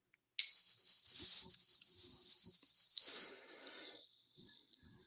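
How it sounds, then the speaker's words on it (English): Angel tuning forks struck once, giving a sharp metallic attack and a pure, sustained high ringing tone that hangs steadily for several seconds with faint chime shimmer, close and clear in a quiet room. "Those are called angel tuning forks."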